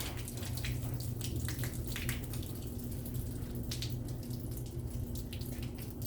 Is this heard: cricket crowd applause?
no